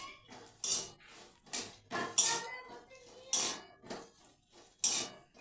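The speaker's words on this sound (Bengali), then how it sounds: "এরপর এই বিনসগুলোকে খুব ভালোভাবে আমি খুন্তি দিয়ে ভালোভাবে নেড়ে চেড়ে ভেজে নেব" Metal spatula scraping and clinking against a pan while green beans are stirred and fried, several bursts of scraping strokes with pauses between them, close and fairly quiet.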